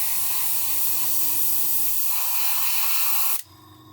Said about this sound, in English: Spraying absolutely fine.